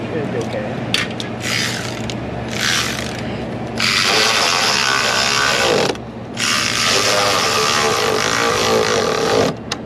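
A hand ratchet tightens nuts during spark plug replacement on a 2003 Mercury Grand Marquis 4.6L. Short bursts of clicking come first, then longer runs of close, loud ratcheting with a brief pause near the middle.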